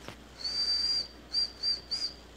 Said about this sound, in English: Wait, I can whistle like this.